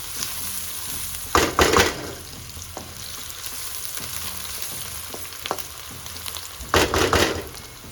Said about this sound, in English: When you allow your onion to fry, it gives it this beautiful scent